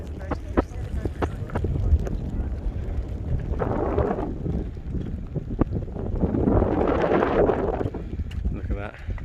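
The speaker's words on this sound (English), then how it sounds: "Don't know if you can hear the wind on camera whipping around here." Gusty wind whipping around outdoors in Scotland, buffeting the microphone in loud rumbling surges, with people talking intermittently through it.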